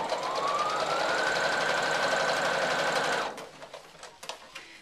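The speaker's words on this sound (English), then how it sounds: "I'm just going to run a straight stitch all the way down the side." A domestic sewing machine runs a long straight stitch down the side of a fabric tissue box cover, a steady close whirring hum that holds for about three seconds and then stops.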